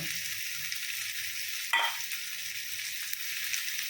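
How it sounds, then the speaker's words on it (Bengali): Onions and figs fry in oil in a pan, a soft continuous sizzle with one brief clatter of stirring partway through. "পেঁয়াজটা একটু ভাজা হয়ে গেছে"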